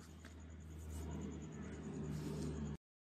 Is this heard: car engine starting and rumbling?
yes